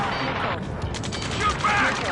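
Gunfire in the video game Ace Combat 7, a dense, continuous rattle of shots heard under shouted radio chatter.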